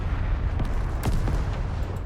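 An explosion in a Call to Arms battle, set in Apocalypse 2066, rolls out as a dense, loud, low rumble with scattered crackles throughout.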